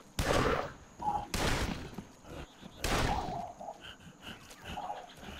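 Pistol shots fired in the video game Shellshock 2: three sharp, loud broadband cracks about a second or more apart, with fainter tonal game effects and chirps between them.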